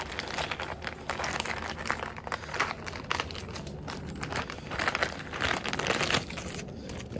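Plastic packaging crinkles and tears open around a radio wiring harness for a Camry, a steady run of close, dense rustling and crackling that lasts throughout without speech.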